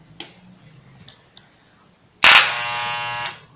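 A men's electric hair clipper clogged with stored hair is switched on after a few faint clicks and handling noises, then runs with a loud, close, rough buzzing drone for about a second before cutting off.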